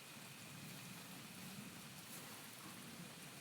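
Light rain from a passing storm falling as a steady, even hiss, constant throughout without pauses or voices.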